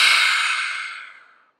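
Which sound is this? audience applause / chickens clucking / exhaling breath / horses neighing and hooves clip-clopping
exhaling breath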